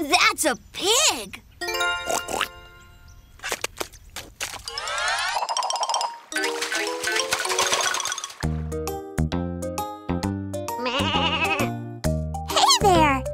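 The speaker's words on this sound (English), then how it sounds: "That's a sheep!" A cartoon sheep bleats among playful sound effects, boings and bright musical tones in a toddler show, with a voice speaking in between and a short tinkling tune toward the end.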